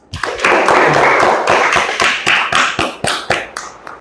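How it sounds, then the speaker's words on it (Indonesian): Classroom applause for the first student group at a chemistry teaching performance test, a loud sustained burst of many hands clapping that gradually thins into scattered individual claps. "beri tepuk tangan dulu buat kelompok yang pertama"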